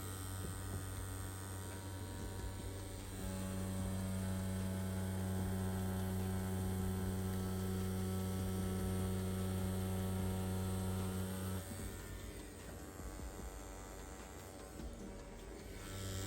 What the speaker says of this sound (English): we're using the More Money InkClaw tattoo machine